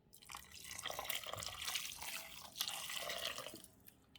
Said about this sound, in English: Gonna put all this beef stock in here.